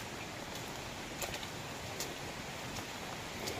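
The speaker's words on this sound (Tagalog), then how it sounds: "kasi medyo lumakas ang ulan" Steady rain falls outdoors on a muddy path, a dense, even hiss with scattered drip ticks, close and unbroken, with no talking heard.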